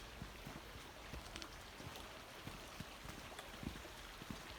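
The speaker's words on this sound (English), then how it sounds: "Streams are just trickling." Small streams trickling beside a coastal hiking trail on the Cape to Cape track, a faint steady wash of running water with scattered soft drips and splashes, no voices.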